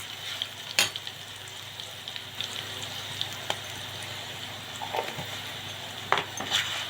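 Mango pulihora being mixed in a hot pan with fenugreek and cumin powder: a close, steady sizzle under repeated spoon scrapes and stirring clatter.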